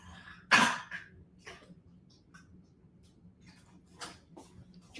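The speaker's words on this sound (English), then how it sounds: "you cough up something?" A dog coughs sharply once, close and loud, followed by a few quieter hacking and throat-clearing sounds scattered over a faint low hum indoors.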